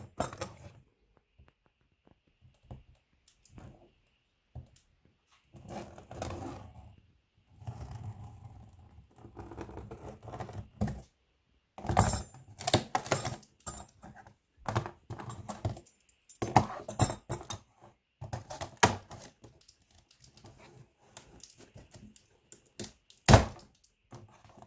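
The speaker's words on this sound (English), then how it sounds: "I'm just going to use this scissors because that's what I got at hand" Scissors snip and crunch through cardboard in intermittent bursts, with scraping and handling noises between cuts, close and fairly quiet.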